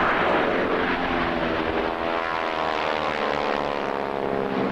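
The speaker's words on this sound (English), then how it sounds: "I love the aircraft, I love the sound of the old aircraft" Old propeller aircraft engine droning at an air show, a loud continuous engine roar with a slowly shifting pitch, like a plane passing nearby, with no talk over it.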